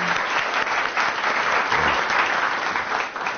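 Studio audience breaks into loud, dense applause on a television talk program, sustained clapping close and full for the whole stretch with a slight dip near the end.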